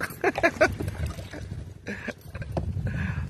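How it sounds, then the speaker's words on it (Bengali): A small boat rowed across a flooded field, with soft splashes and gurgles of water from the oars in bursts, wind noise on the microphone, nearby and moderately loud. "দেখো আরেকজন চালাচ্ছে নৌকা, শুরু করে দিয়েছে চালানো।"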